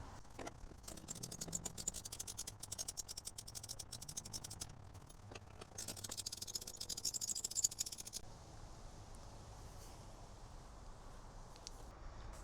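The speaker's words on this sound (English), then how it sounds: "Now we use the 13mm socket wrench to remove the 2 bolts on either side of the front here." A 13mm socket wrench ratchets bolts loose on a Fisker Ocean, giving quiet rapid clicking in bursts, with a pause and then softer handling noise.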